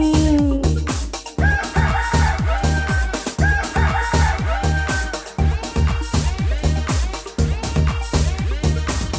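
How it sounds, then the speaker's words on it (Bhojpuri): A rooster crows cock-a-doodle-doo a couple of times, loud and close, over a brisk, repetitive musical beat with clucking-like accents. "कुकुड़ुकू कुकुड़ुकू, मुर्गा बोले कुकुड़ुकू।"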